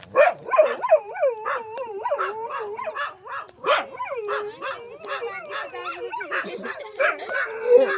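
A dog yelps and barks repeatedly in quick, high-pitched bursts, close by, with some whining between the barks.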